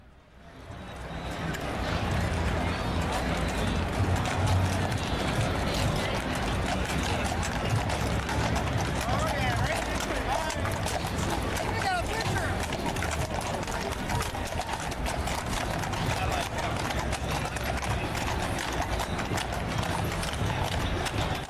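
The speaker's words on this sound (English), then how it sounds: "Look how this horse prances." Horse hooves clip-clopping as a horse prances along in an Opening Day parade with a dog-friendly crowd, steady hoof beats heard close amid continuous crowd noise and chatter.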